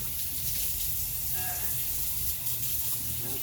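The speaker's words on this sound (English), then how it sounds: "Let me wash my hands up." Tap water runs steadily into a kitchen sink while hands are washed during bread baking, a continuous close gush filling the whole stretch.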